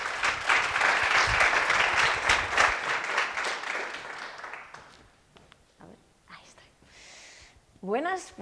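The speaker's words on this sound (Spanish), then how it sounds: "Aplauso para Arima." Audience applause and clapping at a science talk, a dense, loud burst of clapping for about five seconds that fades out, followed by faint room noise and a few brief voices.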